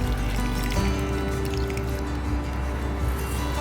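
Water poured onto potted plants in a balcony garden, a steady trickling and dribbling splash close by, continuous and unbroken with no speech.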